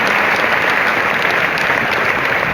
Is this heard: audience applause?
yes